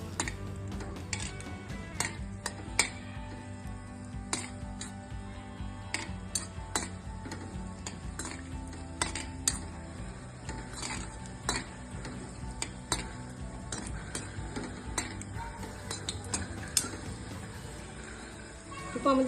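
Slit cashews and raisins are stirred in hot ghee in a pan, with frequent light metallic clinks and scrapes of the spoon over a soft, steady background hiss.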